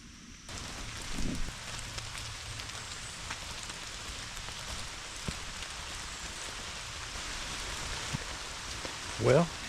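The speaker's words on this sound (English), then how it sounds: "it has been raining all day long" Steady rain hisses continuously as a broad, even wash of noise, with a few faint bumps and a brief sound near the end.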